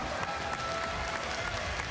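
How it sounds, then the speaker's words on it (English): Steady crowd applause for the race winner at a GT World Series round in Los Angeles, dense and continuous, with a faint tonal hum running underneath and no voices standing out. "let's give him a big round of applause."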